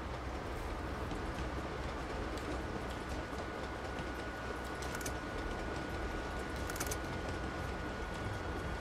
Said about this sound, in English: The train's moving too much.